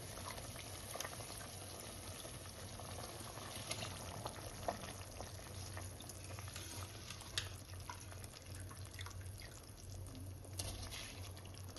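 Rice simmers in boiling water in a single pot for jackfruit mushroom biryani, a sustained, even bubbling with faint crackles and pops running throughout, close and quiet, with no voices.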